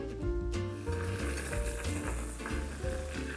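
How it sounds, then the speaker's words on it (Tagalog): Pechay and tomato simmering and sizzling in a pan, a steady close frying hiss with soft bubbling and faint pan clinks throughout. "pinapabayaan ko lang ito na kumulo lang muna, kahit mga 20 seconds lang"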